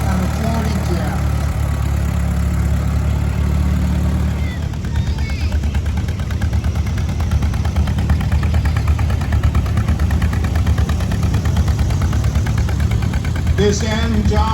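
A running John Deere tractor engine, part of a lineup that includes the multi-cylinder 1010, 2010, 3010 and 4010 models, holds a steady loud low rumble throughout with close, continuous chugging.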